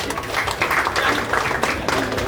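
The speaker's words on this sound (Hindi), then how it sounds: "एक बार फिर से जोरदार ताली हो जाए मैडम रंजनी के लिए।" An audience at an engagement ceremony claps steadily and loudly for a few seconds, a dense, even patter of many hands.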